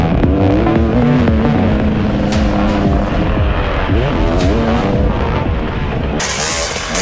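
Husqvarna TC250 motocross bike on a track, its two-stroke engine revving hard and rising in pitch through repeated throttle bursts, loud and close with no talk.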